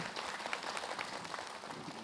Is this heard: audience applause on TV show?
yes